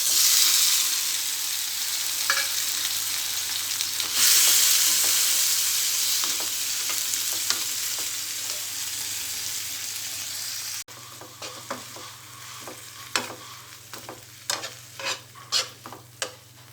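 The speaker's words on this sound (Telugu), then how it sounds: "ఇదే ప్యాన్లో కొద్దిగా ఆయిల్ వేసుకోవాలి. దీంట్లో టమాటా ముక్కలు ఫ్రై చేసుకోవాలి." Tomato pieces frying in a little oil in a pan, a loud steady hiss of sizzling that later gives way to sharp stirring clinks and scrapes of a spoon against the pan, close up, no talk.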